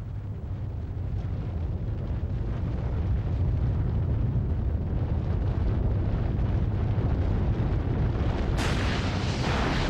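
A deep underground nuclear bomb test detonated 180 metres below ground, heard as a continuous heavy low rumble that holds steady for the whole stretch, with a sharper broadband burst near the end.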